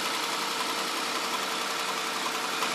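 A car engine idles steadily while air pockets are bled from the cooling system, giving an even, low mechanical hum with faint vibration, quiet and unbroken throughout.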